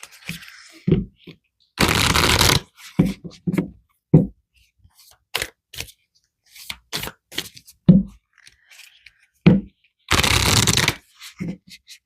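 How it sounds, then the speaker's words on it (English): Tarot cards are shuffled in two loud riffling bursts, with softer slaps and taps of cards between them and brief spoken words mixed in, all close to the microphone. "let's pull some more cards"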